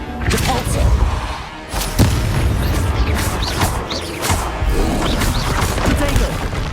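Depulso spell blasts in Hogwarts Legacy, a fantasy video game, produce a dense run of repeated booming impacts and thuds in the middle of loud, busy combat.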